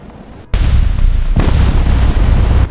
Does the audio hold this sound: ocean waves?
no